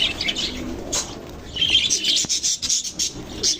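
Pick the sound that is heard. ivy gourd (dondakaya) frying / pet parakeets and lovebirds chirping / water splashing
pet parakeets and lovebirds chirping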